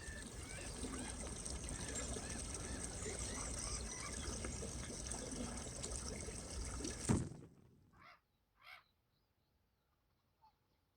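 Water trickles steadily at a stream outflow on the shore at Conager Point near high tide, a continuous soft babble that cuts off abruptly, leaving a few faint goose-like honks in near silence.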